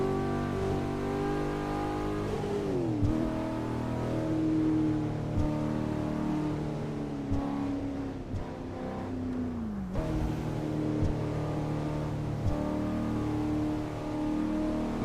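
A Cadillac engine in a driving simulator game hums steadily and revs up and down several times, with a continuous motor drone throughout and no talk.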